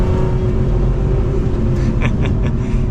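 A 2024 Lotus Emira Touring First Edition sports car drives along, its engine a steady, loud rumble throughout, with a few brief higher bursts near the end.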